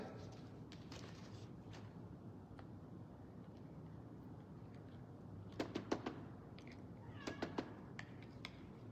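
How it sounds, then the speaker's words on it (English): Two house cats meow in short bursts, asking to be let outside, with several faint cries clustered near the end over a quiet indoor background. "I have two cats, both of them asking to go outside."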